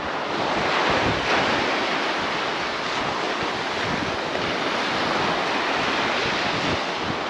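Sea waves crash and wash continuously onto an empty beach in Ordzhonikidze, Crimea, a loud, close roar mixed with gusting wind noise on the microphone.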